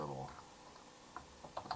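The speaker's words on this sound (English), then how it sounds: "I'm having a hard time typing today." Keys clack on a computer keyboard while Arduino code is typed, a few scattered clicks toward the end under faint background speech.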